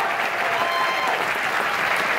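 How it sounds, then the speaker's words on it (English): A theatre audience applauds the backstage crew at a Christmas show, a dense, steady wash of many hands clapping at close range throughout, with no speech over it. "Come on, folks, give them a big cheer."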